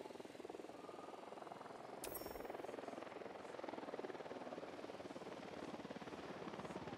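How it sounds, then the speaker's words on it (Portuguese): Helicopter in the video game Ghost Recon Wildlands, a steady rotor thrum with a rapid chopping pulse that stays loud and constant throughout, with a brief sharp tone near the start. "Helicóptero da unidade"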